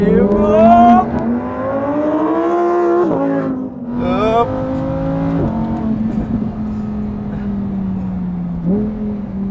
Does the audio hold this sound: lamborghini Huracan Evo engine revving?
yes